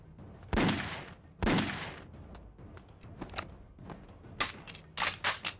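Gunfire in the video game Dex, heard as a few sharp shots early on followed by a quicker run of bursts near the end, all close and fairly loud with no talking over it.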